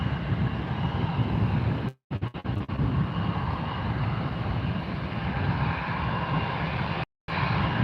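A large airplane approaching at a Fort Lauderdale planespotting spot, a steady broad engine roar with wind buffeting throughout, briefly cut by two short dropouts.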